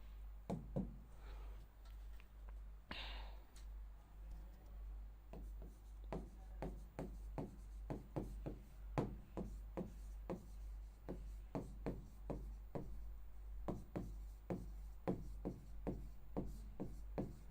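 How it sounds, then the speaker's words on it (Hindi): Chalk or marker taps and scratches across a classroom board in a steady series of short strokes, faint and close over a low electrical hum, as words are written out one after another. "जितने वर्ड्स बोर्ड पे लिख रही हूँ"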